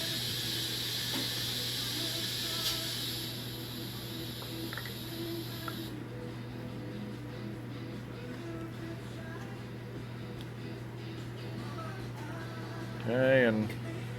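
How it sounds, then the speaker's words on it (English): A double-sided polishing machine runs in auto cycle as its main cylinder lowers, giving a steady mechanical hum with faint ratcheting clicks and a brief louder mechanical burst near the end. "the main cylinder is lowering"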